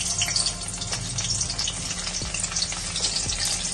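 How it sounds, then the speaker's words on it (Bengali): Chopped garlic sizzling in hot oil in a kadai while chowmein is being made, a close, bright, continuous crackle with occasional sharper pops and a faint stirring scrape. "এবার দেব আমি রসুন কুচি।"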